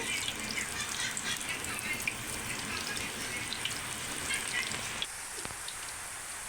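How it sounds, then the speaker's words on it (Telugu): Spinach pakodi fritters fry in hot oil with a steady, dense sizzling hiss, close and even throughout, easing slightly near the end with a soft clink. "ఆయిల్ హీట్ అయిందండి ఇప్పుడు పకోడీ వేసుకుందాం"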